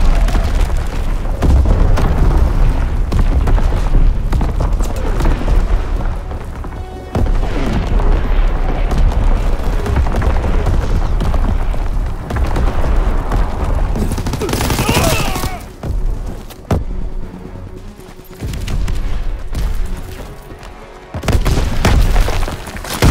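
Artillery battery fire in the World War II shooter Call of Duty WWII: heavy booms and dense bursts of gunfire roll almost continuously through a loud battle, thinning briefly near the end before erupting again.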